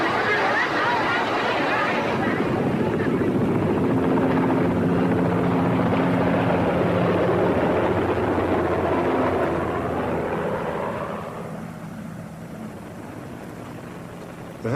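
A helicopter's rotor thumps steadily and loudly over a wash of broadband engine noise, with faint voices beneath, easing off slightly near the end.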